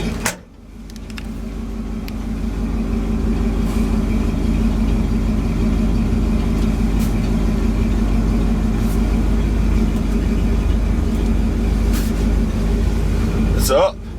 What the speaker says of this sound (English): Why don't we turn the air compressor on and see if it'll make any air?